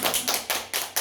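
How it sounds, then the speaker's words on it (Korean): A few sharp hand claps sound at the close of an online Bible lecture, five distinct, evenly spaced slaps in about a second, close and crisp in a quiet room. "박수."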